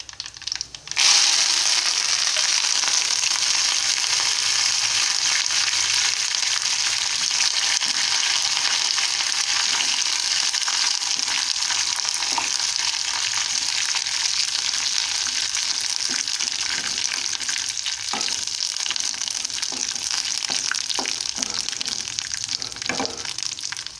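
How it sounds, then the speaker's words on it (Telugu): Curry-leaf tempering in hot oil poured into a toor-style dal with drumstick leaves, amaranth and tomato, giving a loud, steady, continuous sizzle and crackle that lasts throughout with no speech. "చూడండి పప్పులో తాలింపు వేసేస్తున్నాను"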